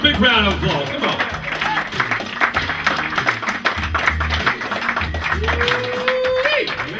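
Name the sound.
audience applause for a singer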